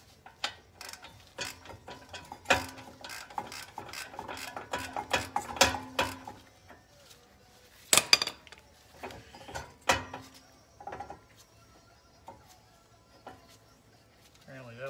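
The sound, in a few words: loose brake caliper bracket rattling on Pontiac G8 GT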